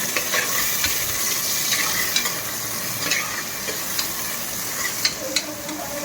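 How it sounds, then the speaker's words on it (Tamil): Onions fry in oil with whole spices for mutton biryani, giving a steady close sizzle and repeated spatula scrapes and taps against the pan. "ஆனியனை போட்டு நல்லா ப்ரௌனாக வதக்கணும்"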